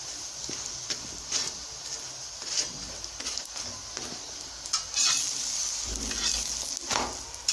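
A pumpkin chapati fries in a little cooking oil on a pan with a soft continuous sizzle. Light taps and scrapes from turning it sound now and then, close up and with no talking.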